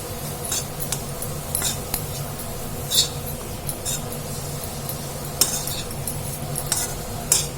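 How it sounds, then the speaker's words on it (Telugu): Spinach curry with coconut chili powder and garlic being stirred in a pan: steady soft sizzling under repeated metal spoon scrapes and clinks against the vessel, with a few sharper taps. No talking. "ఈ కొబ్బరి కారం మంచిగా ఆకుకూరలో మంచిగా కలిసిపోయేటట్టు మంచిగా కలిపేసుకోవాలి"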